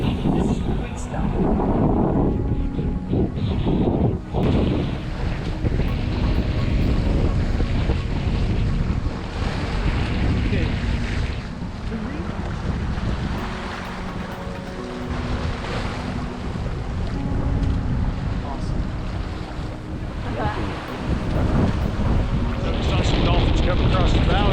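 Strong wind buffets a sailboat at sea in the Bay of Islands, New Zealand, a loud continuous roar of gusts and microphone rumble mixed with water and waves, with a voice faintly in the background.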